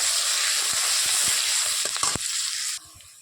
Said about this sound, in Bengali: কাঁচা লঙ্কা এটাকে ভালো করে ভেজে নেব